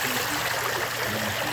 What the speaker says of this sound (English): I put in a little sprinkler system here, little PVC. So this kind of moves water over in the dead end part of the pool.